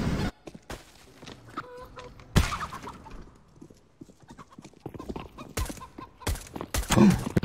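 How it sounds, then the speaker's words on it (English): Chickens in the video game CS:GO give a few soft clucks amid hoof-like clip-clop footsteps and scattered sharp game noises. "Chicken."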